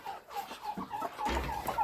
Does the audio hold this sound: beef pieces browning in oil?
no